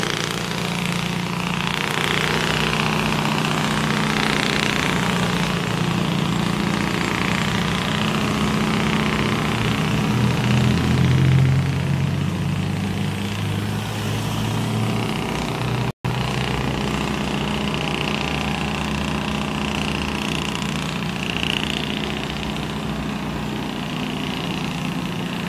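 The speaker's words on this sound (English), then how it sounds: "Listen to that Cummins, people," Cummins diesel truck engine running loud and steady with deep low rumble, swelling briefly near the middle, on a Jamaican truck with a loud engine brake.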